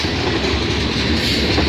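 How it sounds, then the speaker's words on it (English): A Union Pacific train passing close by on a rail line, a loud continuous rumble and roar of rolling cars with faint clickety-clack, no talking. "Awesome, I got a green train"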